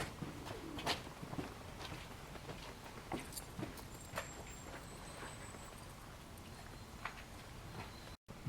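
Pigeons coo at the dovecote of the Château de Bonaguil near Fumel, giving soft repeated calls over a quiet outdoor background with a few faint knocks.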